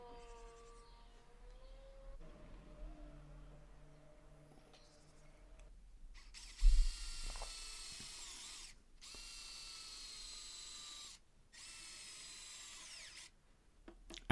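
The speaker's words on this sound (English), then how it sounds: "I piloted the holes just because I didn't want these thin pieces of pine to split" A power drill bores pilot holes in thin pine pieces, heard as several separate whirring bursts of a few seconds each, with short pauses between them, following quieter workshop noises.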